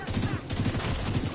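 Rapid bursts of sniper and rifle fire crackle through a firefight in The Division 2, dense and continuous at moderate volume, with a voice speaking faintly underneath.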